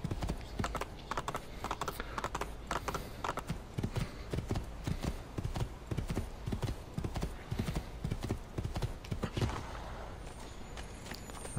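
Rapid, steady horse hoofbeats clip-clop close by during riding in Assassin's Creed 2, a continuous galloping rhythm with faint tack and a brief whinny-like tone, loud throughout.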